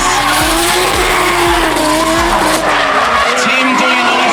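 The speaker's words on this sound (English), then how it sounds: "he barely keeps the car sideways." A drift car slides sideways through a competition run, tires squealing in long wavering screeches over a steady, loud engine roar that drops away near the end.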